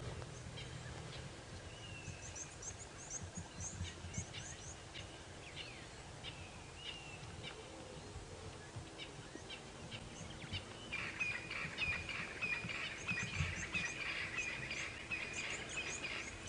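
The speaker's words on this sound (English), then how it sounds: "A really truly spectacular morning cacophony. Here goes our starlings." Starlings calling in a lively early-morning chorus on a wild African safari drive, a dense, faint wash of chirps and whistles that comes from several distances over a steady low rumble of the vehicle.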